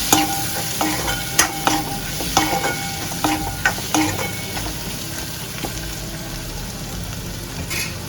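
Chana dal sautéing in a pan for Maharashtrian poppy seed curry, a steady close sizzle broken by sharp scrapes and knocks of a spatula stirring the dal throughout.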